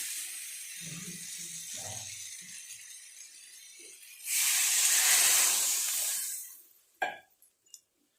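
Water poured into hot spiced potato masala for a katla fish kalia bursts into a loud hiss that swells for about two seconds and fades, after faint clinks, followed by a few sharp clinks of a utensil.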